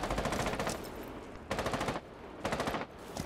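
Sniper rifle gunshots in a shooter video game, loud and sharp, with a sustained burst of fire followed by two more short bursts.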